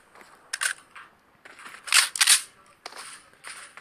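Sharp gunshots crack out in PUBG Mobile: a single shot, then a tight double burst and a few more spaced reports, each short and fairly loud over near silence.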